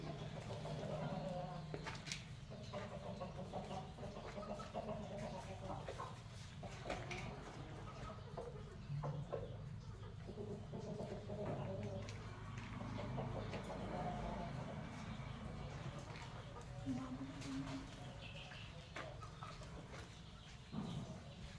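Native desi hens and a rooster cluck softly in a village poultry shed housing about fifty birds, low scattered calls and shuffling under a steady background hum, a person's voice faint at times.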